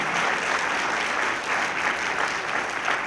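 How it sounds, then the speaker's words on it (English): Dense, sustained applause from a crowd at a remembrance service for the victims of the 2021 Buffalo massacre, a steady even roar of many hands throughout, loud and close. "let's give a round of applause to our Attorney General"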